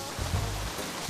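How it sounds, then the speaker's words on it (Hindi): Heavy rain falls in a dense, steady hiss close by, with a few low rumbling bumps under the downpour. "यहाँ इतनी बरसात हो रही है"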